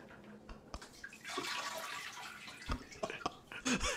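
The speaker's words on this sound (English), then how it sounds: "You can like see the water level rising" A toilet bowl fills after grease and ground beef are drained into it, with close, quiet gurgling, sloshing and dripping water and a few sharp clicks.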